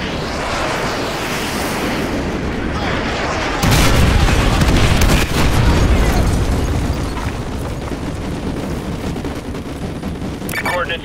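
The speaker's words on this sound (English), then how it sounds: "Fire mission received. Artillery inbound." An artillery strike in Call of Duty: Modern Warfare 2 Remastered hits as a loud, continuous barrage of rumbling explosions, swelling into a heavier booming burst partway through, with distant gunfire mixed in.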